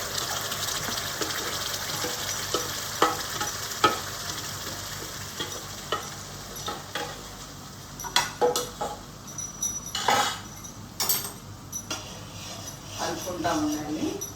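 A ground spice mixture is stirred into a drumstick curry in a pan, giving a bubbling sizzle punctuated by repeated scraping strokes and spoon knocks, with a voice speaking intermittently over it.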